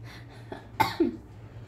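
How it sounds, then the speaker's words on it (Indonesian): A single short cough close by, followed by a brief throat-clearing sound, in an otherwise quiet room. "Batuk dulu ya kan"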